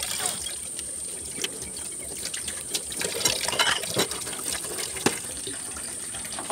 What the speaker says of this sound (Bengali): রান্নার মাঝে আমি এসে থালাবাটিগুলো ধুয়ে নিচ্ছিলাম।